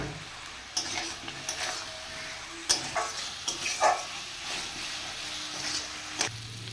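Fried potatoes being stirred into a turmeric and salt spice paste in a pan, giving a low steady sizzle with repeated scraping and stirring knocks of the utensil against the pan.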